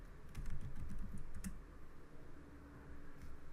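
Keys clatter on a computer keyboard in quick bursts of close, crisp taps, pausing briefly before a few more strokes, with no voices present.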